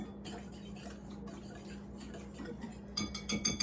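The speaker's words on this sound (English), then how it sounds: "We're going to give our sauce a quick whisk, get all the lumps from our cornstarch out." A whisk ticks rapidly against a bowl as pepper steak sauce is whisked with cornstarch, a steady light clicking over a low hum that turns into sharper, louder clinks at the end.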